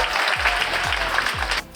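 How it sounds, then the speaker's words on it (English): A theatre audience applauds after a talk on Alexander Ekman's ballet Hammer, a dense, steady wash of clapping up close that fades out abruptly at the end, with low thuds underneath. "So applause for you."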